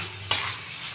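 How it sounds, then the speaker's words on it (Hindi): Tomatoes with spices drop into a hot pan for a spinach and potato curry, bursting into a sudden sizzle that settles into a steady hiss. "अब इसको भी हम अच्छी तरह से फ्राई करेंगे।"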